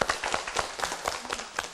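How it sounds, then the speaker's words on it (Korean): A lecture audience claps briefly, a quick run of close, crisp hand claps at an even pace, with a trace of voice underneath. "박수 치겠습니다."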